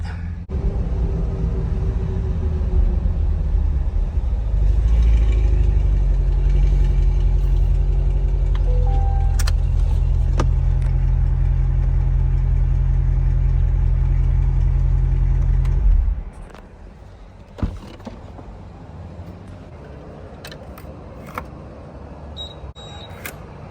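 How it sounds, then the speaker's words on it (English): A C8 Corvette rumbles at low idle, loud and close, pulling into a Buc-ee's gas station; the steady engine drone cuts off partway through, leaving quiet ambience with a few faint clicks. "I think it's about time to roll up in here to Buc-ee's and fill up the old Corvette."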